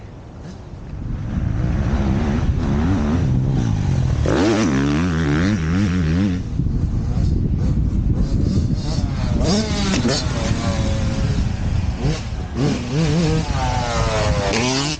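A motocross dirt bike engine roars and revs continuously as the rider works through gear shifts, the pitch climbing and dropping repeatedly, loud and fairly close with a brief quieter start.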